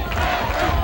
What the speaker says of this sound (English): Michele, that's the chant from the Italian crowd, trying to cheer on Picario here in round number 2.